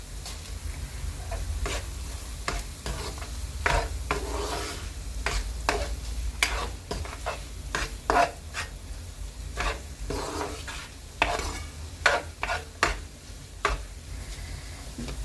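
Eggs being stirred and fried in a pan with salt for nasi goreng, with repeated utensil scrapes and clinks over a steady low sizzle, close by and with no one speaking.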